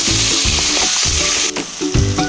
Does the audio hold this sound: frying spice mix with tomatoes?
yes